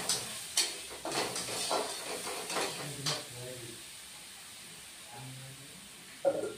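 Ground turmeric and chili paste fry in a pan with a low sizzle while a utensil stirs and knocks against the metal in irregular bursts, then the sound quiets.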